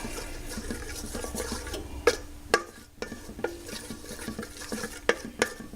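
Butter melting in a pan while being stirred for buffalo cauliflower, a soft continuous scraping stir punctuated by several sharp utensil taps against the pan, close and fairly quiet.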